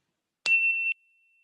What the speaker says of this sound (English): we're going to use Penelope's bell to invite us into this